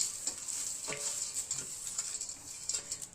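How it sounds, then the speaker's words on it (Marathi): Mint-flavoured puffed-rice chivda being stirred and tossed in a pan, giving a soft, steady rustle with scattered light ticks and scrapes, close and fairly quiet, with no talking. "आता हे सगळं आपल्याला याच्यात मिक्स करून घ्यायचं आहे."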